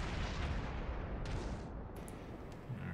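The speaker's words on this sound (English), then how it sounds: "now let's see if I can get another shot on him here. I'm actually gonna pop over back to HE" Naval guns on a World of Warships heavy cruiser firing high-explosive shells, a dense continuous rumble of booming gunfire with a few sharper reports toward the end, loud and without speech.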